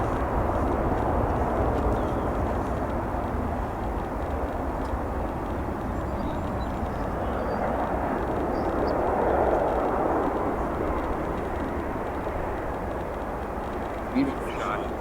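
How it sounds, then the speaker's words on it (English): A China Eastern Boeing 777-300 taxis at O'Hare airport, its engines a steady broad roar heard at moderate distance for the whole stretch, with a person talking over it. "this China Eastern 777-300, the elongated version of the 777, taxis from its flight from Shanghai"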